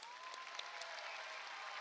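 Applause at a high school graduation ceremony, a steady wash of many hands clapping at moderate distance, with a few sharper claps standing out.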